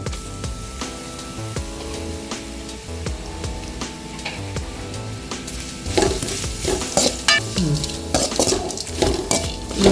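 Grated radish goes into a pan of sautéed onions and chillies for a village-style radish and egg podi mas, with a steady sizzle and repeated metal spoon scrapes and clinks that grow louder and busier midway through.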